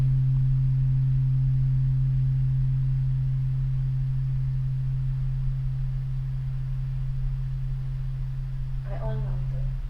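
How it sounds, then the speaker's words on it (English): A sustained low ohm tone from a struck instrument, picked up on a condenser mic, hums steadily and evenly for the whole stretch, close and loud, with a faint brief sound near the end. "So this is actually the ohm frequency, the ohm sound."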